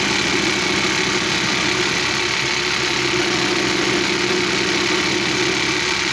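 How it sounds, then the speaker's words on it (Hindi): A pico hem machine runs steadily while stitching crochet edging along a hem guide, its motor giving a constant, close mechanical whir and rattle with no pauses or voices. "अभी मैं आपको चलाकर भी दिखाता हूँ जी।"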